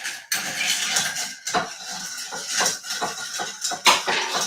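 Ice clinking and rattling against a glass while an improvised old-fashioned cocktail is stirred, a busy run of close, irregular clicks and clatters with no talking.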